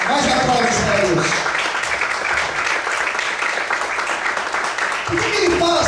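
Congregation applause in a church service, continuous broad clapping for several seconds while a voice speaks over it at the start and again near the end.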